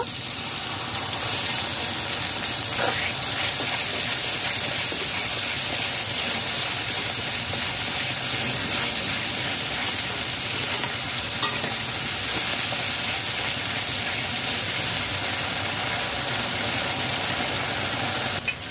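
Okra and tomato curry with mustard paste fries in a pan, giving a loud, steady sizzle with occasional stirring scrapes throughout, with no voices.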